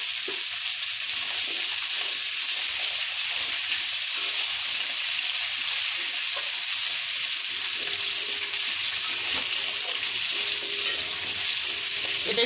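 Potatoes and jackfruit seeds frying in a pan with green chillies, giving a loud, dense, continuous sizzle that holds steady for the whole stretch, with faint stirring underneath.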